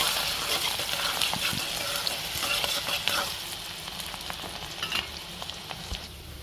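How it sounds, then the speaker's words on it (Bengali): Chopped onion drops into hot oil for a noodle dish, sizzling and crackling loudly up close while being stirred, the frying steady and gradually settling. "এখানে দিয়ে দেবো পেঁয়াজ কুচি।"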